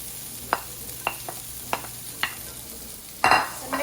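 Carrots sizzle in a paella pan among onions, peppers and paprika, with a steady low fry and a few crisp spoon scrapes spaced through it, ending in a louder burst of stirring nearby.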